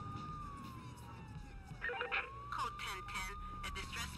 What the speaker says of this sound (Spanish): pero no escuchéis la maldita sirena